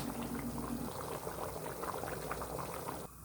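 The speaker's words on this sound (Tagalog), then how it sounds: "kumukulo na" Red kidney beans boil in a pot of water for pork and beans, a steady close bubbling and simmering that runs without a break and drops slightly near the end.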